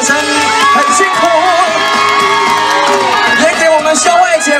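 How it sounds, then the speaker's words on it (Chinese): Concert crowd cheering and screaming at an outdoor Taiwanese-language pop music night at Xiangshan Tianhou Temple in Hsinchu, loud and continuous under strong musical tones, with no clear claps picked out. "给我们现场所有的长官、工作人员热情的掌声加尖叫声"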